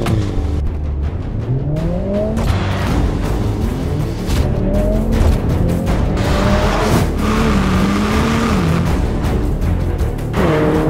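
Mercedes-AMG A45 S, a high-output production four-cylinder, launches from a racing start and accelerates hard, its engine note climbing through rising gear sweeps with brief shift dips, loud and close throughout with no talk.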